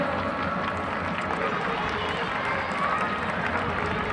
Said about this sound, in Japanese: 大きな拍手をください。